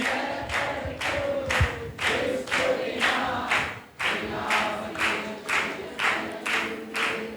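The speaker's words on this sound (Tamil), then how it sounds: "நல்லா கைத்தட்டி." A church congregation clapping hands in steady rhythm during a worship song at a Sunday service, about two claps per second, loud and close, with singing voices and music underneath.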